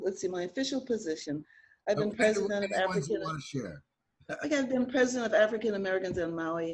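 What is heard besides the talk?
No everyday noise stands out behind the speech.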